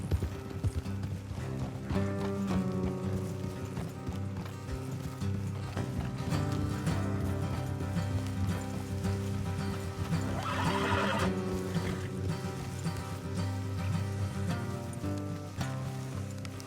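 Horses whinny and hooves clop steadily over a constant outdoor background in the video game Red Dead Redemption 2, with one louder neigh standing out partway through.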